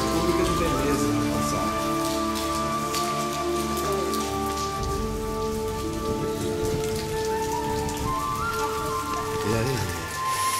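Heavy rain pours steadily in a medieval Croatian town, a dense close patter on surfaces throughout, with tonal sounds and voices mixed underneath.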